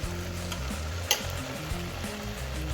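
Rice and spices for Maharashtrian pea rice (vatana bhat) stirred in a hot pan, a steady close sizzle with scraping stir strokes and one brief louder knock, over a low tonal hum and no voices.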